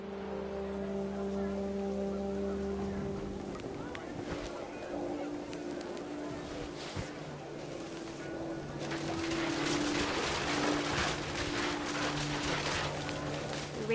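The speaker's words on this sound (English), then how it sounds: "The rain came down in buckets then," Heavy rain pours steadily onto a tent, a dense hiss that swells louder partway through, while geese honk intermittently in the background.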